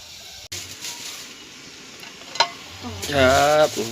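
Snakehead fish broth boils in a pot for a Thai khanom jin coconut curry noodle sauce, with a steady bubbling hiss, a couple of sharp knocks and a short voice near the end.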